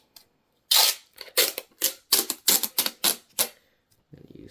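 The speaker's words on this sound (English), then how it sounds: "we'll get some more tape here." Packing tape pulled off a roll in a series of sharp ripping bursts, about eight quick strips in a row, close and fairly loud, during a home repair job on an HP Pavilion 22 all-in-one desktop computer.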